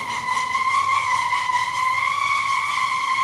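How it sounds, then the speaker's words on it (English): A car being towed gives off a steady, continuous scraping squeal with sustained high-pitched tonal bands, loud and close, without a break for the full few seconds. "There's a car being towed"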